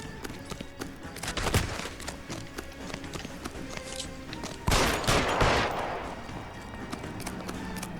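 Gunfire from the video game L.A. Noire: bursts of loud shots crack out near the start and again past the midpoint over a busy game soundscape, with brief in-game voices.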